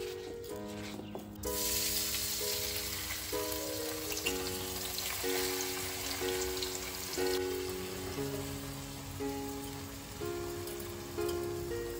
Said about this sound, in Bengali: ভালো করে চালটা ভেজে নিচ্ছি